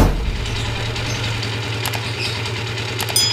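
Tricycle engine idling smoothly close by, a steady low rhythmic putter with an even pulse that holds throughout, a few faint higher clicks near the end, and no voices.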